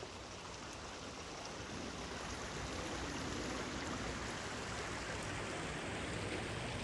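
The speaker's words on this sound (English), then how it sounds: "Here you can begin to hear the creek flowing." Steady rushing water fills the scene, a constant broadband flow of a creek on the Mullum Mullum Trail near Ringwood, with no pauses, moderately loud and continuous.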